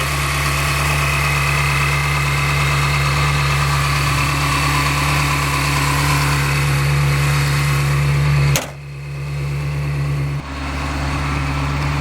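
Close, loud idle from a 2002 Ferrari 360 Spider engine, running steadily before cutting off abruptly near the end, then a softer rumble returns briefly.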